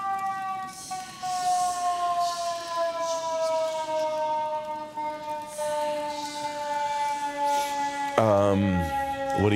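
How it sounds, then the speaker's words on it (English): A wailing emergency siren passes by outside, its falling tone sweeping steadily, loud and continuous, then shifting pitch sharply near the end as it goes past. "I'm just gonna wait for the siren to go by."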